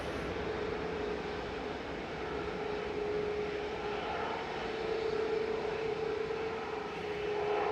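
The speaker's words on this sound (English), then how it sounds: "So we've got 6 aircraft over at Southside waiting for departure" A steady, distant jet engine rumble drifts across Manchester Airport, with one sustained tone running through the broadband roar, moderately faint and unbroken, with no voices.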